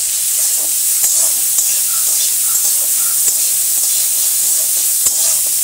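Washed mung dal fries in a pan while being stirred, giving a steady close sizzle and hiss with soft scraping strokes and occasional sharper ticks, no voices.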